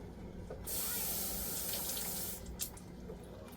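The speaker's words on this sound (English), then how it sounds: "I'm just rinsing this can with a little bit of water." Tap water runs into an emptied tomato sauce can as it is rinsed, a steady, close splashing stream lasting about two seconds, then easing to a softer trickle.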